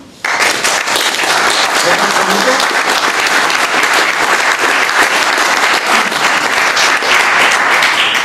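An audience in a conference hall at a 2014 talk breaks into sustained applause, loud and dense, continuing steadily for the full length without pause.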